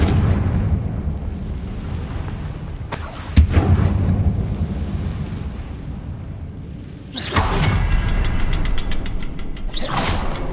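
Fire-spell explosions from Hogwarts Legacy: a sharp blast a few seconds in, then two louder roaring bursts later, each with a crackling tail over a steady low rumble of game ambience, with no voices.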